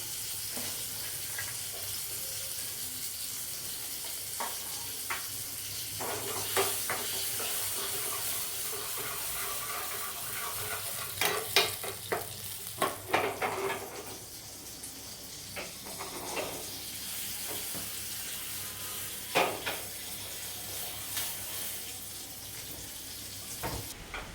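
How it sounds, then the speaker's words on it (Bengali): A spoonful of butter sizzles with garlic cloves frying until reddish, for garlic palak paneer. A soft, steady sizzle runs throughout with occasional sharp crackles and stirring clicks, fairly quiet and with no voices. "এটা আমি বাটার দিয়েছি, 1 চামচ দিয়েছি বাটার। এর মধ্যে আমি রসুনগুলো ভাজবো।"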